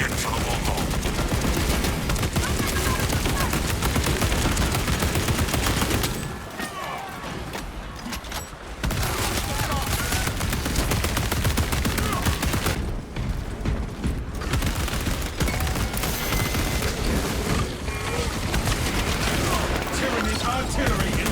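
Automatic bolt rifle fire in Space Marine 2, sustained loud rapid bursts with two short pauses, amid dense battle noise and explosions.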